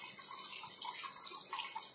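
Water runs steadily from a tap to rinse gel off during makeup removal, a close, continuous splashing hiss with no speech over it.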